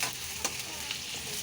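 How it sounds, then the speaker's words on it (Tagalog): Potatoes and carrots fry in a pan, a steady close sizzle with a few stirring scrapes and clinks over it, and no voices. "Prito. Prito. Ang carrot at patatas."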